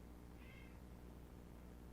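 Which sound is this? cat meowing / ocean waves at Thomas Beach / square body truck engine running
cat meowing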